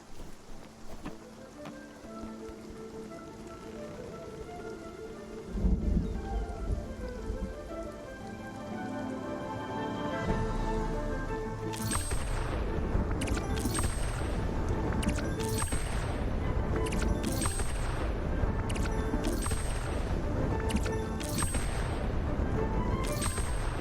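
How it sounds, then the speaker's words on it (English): Thunder and lightning in a storm in the Spiritfarer video game: steady rain, then a run of sharp, loud cracking strikes in quick succession over a continuous rumble. "The lightning noises are so satisfying."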